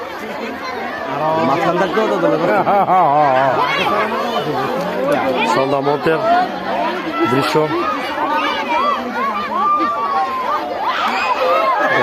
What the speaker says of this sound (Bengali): দেখতে পাচ্ছেন বন্ধু অনেক মানুষ কিন্তু তারা ভিড় জমে গেছেন হাঁসের খেলা দেখার জন্য